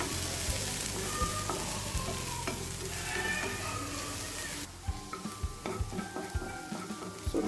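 Chopped onions sizzle and fry steadily in a pan for chicken ghee roast, with a dense hiss broken by occasional spatula stirs and scrapes, turning quieter with sharper clinks near the end.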